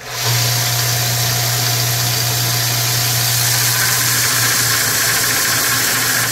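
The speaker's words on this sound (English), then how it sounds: "I'm just going to hold the chair up on this belt sander" A belt sander grinds at the curved wooden rocker of a child's rocking chair, giving a loud, steady motor drone with a broadband rasp that holds for the whole stretch.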